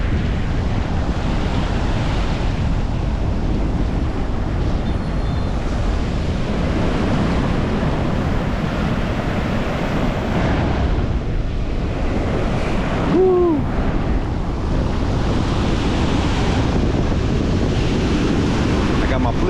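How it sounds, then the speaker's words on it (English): Ocean surf rolls onto a beach along Florida's Emerald Coast, a loud, continuous wash of breaking waves with heavy wind rumble against the microphone. "Check out those waves."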